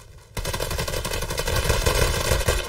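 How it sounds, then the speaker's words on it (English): Rapid gunfire bursts out in the video game Hired Ops after a brief quiet start, a loud continuous string of close shots from a sniper rifle, with no talking. "Oh, that's a sniper."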